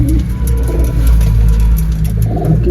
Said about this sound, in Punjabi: ਦੇਖੋ ਜੀ ਕਬੂਤਰ ਆਪਣੇ